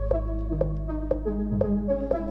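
A synthesizer line plays evenly spaced notes over a low sustained bass drone, with soft rhythmic clicks marking each beat.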